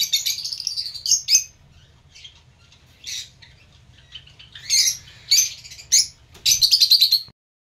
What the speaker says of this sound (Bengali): এই সব দেখো লাভবার্ড, সুন্দর সুন্দর সব লাভবার্ড রয়েছে।